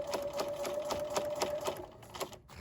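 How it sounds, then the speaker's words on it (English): A sewing machine stitches a straight quarter-inch seam along the folded bottom of a drawstring bag, its needle chattering in a fast, steady rhythm close to the microphone before slowing to a stop. "So I'm going to continue to sew straight across at a 1/4 inch seam allowance"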